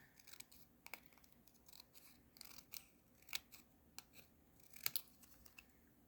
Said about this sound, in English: then you just go back in with your scissors